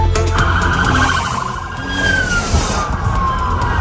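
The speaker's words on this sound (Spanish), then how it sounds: "Es el sonido de las sirenas ahora mismo en el entorno del Capitolio de Estados Unidos" A police siren near the US Capitol wails, rising and falling loudly over a steady low rumble of traffic, close and continuous throughout.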